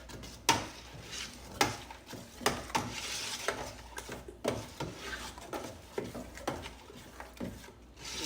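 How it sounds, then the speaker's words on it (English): A spoon stirs garlic powder into spaghetti sauce in a pot with repeated wooden and metal scrapes and knocks. Thick sauce sloshes quietly between them, close and fairly soft, with no talking. "Let me stir it up a little bit."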